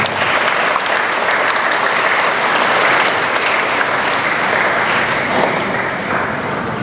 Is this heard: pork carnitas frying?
no